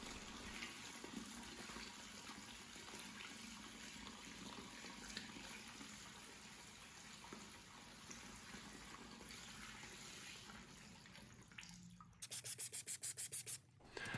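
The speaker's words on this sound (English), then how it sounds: "going around with my drill brush to agitate, and then I'm just going to wipe it clean with a microfiber towel" A drill brush scrubs the dirty floor of a Ford F-150 work truck, giving a steady close rubbing, whirring grind that ends with a few sharp rhythmic bursts.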